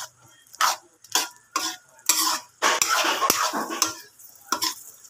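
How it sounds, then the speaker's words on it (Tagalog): Bicol Express ingredients stirred and mixed in a pan, with repeated scraping and clinking strokes of a utensil against the metal in uneven bursts, close and fairly loud, with no talking. "Halo-haloin natin para mag-combine ang ating mga ingredients."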